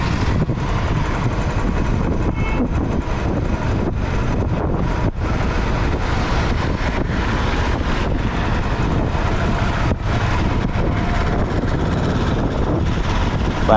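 A Royal Enfield Classic motorcycle cruising in top gear, its engine a steady continuous drone buried under heavy, constant wind rush on the microphone, with no breaks or gear changes across the stretch.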